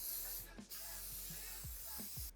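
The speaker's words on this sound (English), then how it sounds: "we'll spray these off now so we don't forget to do that so it doesn't stick" Cooking spray hisses from an aerosol can into a baking pan, in one steady close burst lasting about two seconds. A few soft clinks sound underneath.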